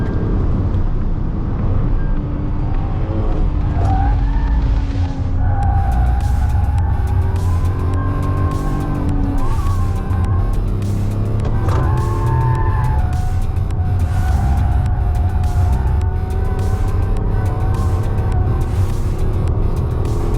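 A Tata Altroz Racer with a hydraulic clutch lapping a race track, its engine note climbing and falling through quick gear shifts, steady and close without any talk.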